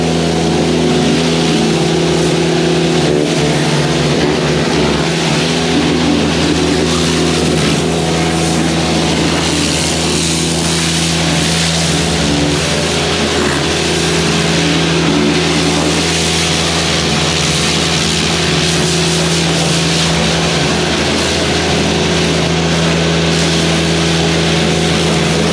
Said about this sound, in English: what he's doing is he's pressure washing the Volvo